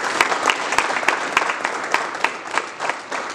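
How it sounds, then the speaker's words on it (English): An audience at a school board meeting claps for a student swimmer, a steady round of applause with sharp individual claps throughout. "let's give Tia Spivey a round of applause"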